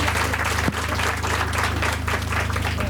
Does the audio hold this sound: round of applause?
yes